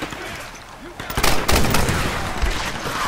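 Bursts of automatic gunfire from enemies in the video game Tomb Raider 2013, loud and dense rapid volleys that swell after the first second and keep rattling to the end.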